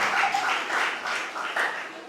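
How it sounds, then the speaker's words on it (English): An audience claps for performing and media arts students at a college event, a moderate burst of applause that swells and ebbs in waves, with voices cheering through it. "a round of applause for them again, please"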